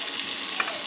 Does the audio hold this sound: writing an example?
no